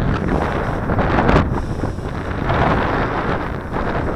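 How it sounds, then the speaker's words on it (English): Steady, loud wind buffets the microphone outdoors while an Eachine CG022 quadcopter drone with prop guards flies on a windy day, a constant roaring rush with gusty swells and no speech. "So this little quadcopter does a great job of fighting the wind."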